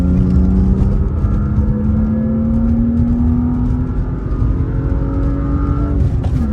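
A BMW E36 M3 pulls hard in third gear, its engine note rising steadily as it revs up, loud and close from inside the car with no talk.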